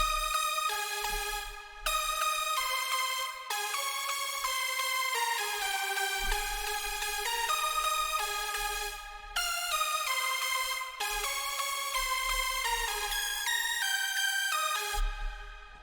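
A bright synth lead preset called Lead Mistake, built from a saw-style layer, plays a progressive house melody of sustained stepping notes. It is loud and continuous with short gaps between phrases and a low thump under some notes.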